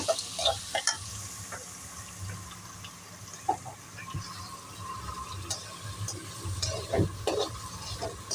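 Onions and dried chillies sizzle steadily in hot oil while a utensil stirs and scrapes the pan now and then, close up.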